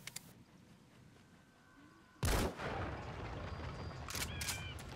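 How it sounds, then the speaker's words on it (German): Gunshots ring out in Metal Gear Solid V: The Phantom Pain, one loud sharp report followed by a lingering tail and a few quieter clicks later, over a faint background. "Schieß da einmal drauf"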